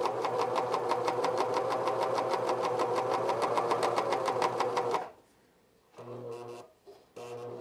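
A cover stitch sewing machine runs a binding attachment in a fast, steady, loud stitching rattle for about five seconds, stops briefly, then gives two shorter bursts.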